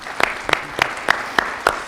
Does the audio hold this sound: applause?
yes